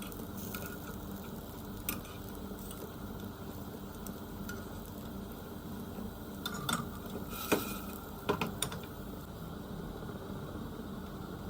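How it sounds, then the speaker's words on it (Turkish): Steady soft sizzling of lentil and zucchini patties frying on medium heat in a pan, with a few light metallic clinks and scrapes of a utensil near the end. "Tüm köfteleri orta ateşte önlü arkalı güzelce kızartalım."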